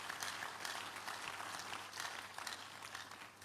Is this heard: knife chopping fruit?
no